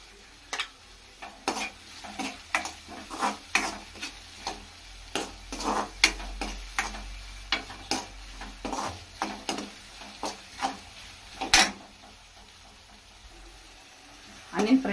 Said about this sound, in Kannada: ಆನಿಯನ್ ಫ್ರೈ ಆಗಿದೆ